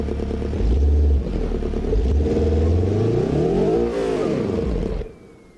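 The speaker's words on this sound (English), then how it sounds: "Yeah, that's definitely a blown engine." A blown car engine in BeamNG.Drive revs roughly, a rough rumbling roar that climbs and sags in pitch with a ragged clatter, loud and close, then cuts off abruptly into near silence.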